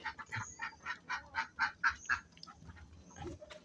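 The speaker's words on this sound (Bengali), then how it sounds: "এই যে একটা মুরগি আর একটা হাঁস উপরে।" A duck and a chicken call in a rural yard, a run of about ten loud, evenly spaced honking quacks close by, fading into quieter background noise.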